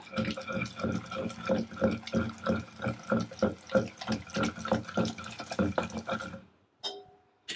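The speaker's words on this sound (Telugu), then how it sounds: "ఇప్పుడు ఈ వాటర్ అన్నది మనకు కొద్దిగా వేసుకోవాలి" Water is poured into a stuffed brinjal masala curry in a steady, rhythmic glugging stream lasting several seconds before it cuts off, close and fairly loud.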